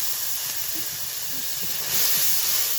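A steady, loud hiss of steam rises as a little water hits garlic and onion frying in a pan for a water spinach dish, swelling slightly near the end.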